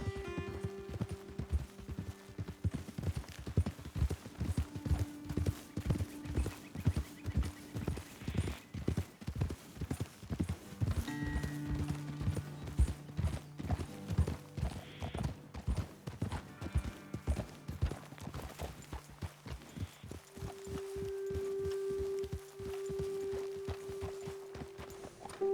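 Several horses' hooves clip-clop steadily on the ground in Red Dead Redemption 2, walking and trotting close by with a long, regular rhythm, occasional soft tonal game sounds layered beneath.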